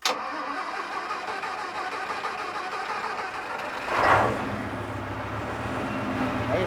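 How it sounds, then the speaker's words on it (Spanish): A German Jung locomotive with Mercedes engines starts up with a short cranking burst, then settles into a steady low, close engine idle, heard alone without talk. "Esta es una locomotora Jung alemana, con motores Mercedes"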